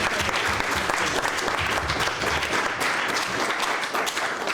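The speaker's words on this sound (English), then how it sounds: "give a clap to that" A crowd claps and applauds steadily throughout, a dense, sustained wash of clapping.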